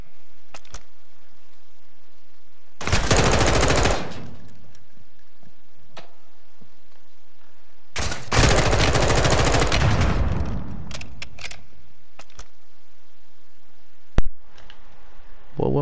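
Gunfire in the Modern Warfare video game campaign: two long, loud bursts of rapid automatic fire separated by quiet, with scattered single shots and a sharp report near the end.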